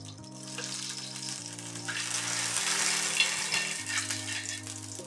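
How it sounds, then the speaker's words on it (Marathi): A little oil sizzles and crackles on a hot griddle over a gas stove for cabbage thalipeeth, a steady close frying hiss that swells in the middle, while a low electronic tone drones underneath. "गॅसवर मी थोडंसं तेल सोडून घेते"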